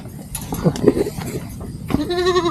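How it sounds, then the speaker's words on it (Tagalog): Goats on a small farm bleat several times, wavering calls with harmonic tremolo, the last one long and clear, over faint background chatter. "Ang dami pang kambing ni sir."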